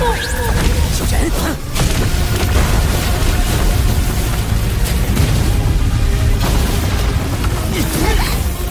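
A level-7 soul-guided cannon blast, the Thunder God's Wrath, fires at close range in the animated series Soul Land 2: a loud sustained booming roar with whooshing bursts that fills the whole stretch, layered with dense battle effects.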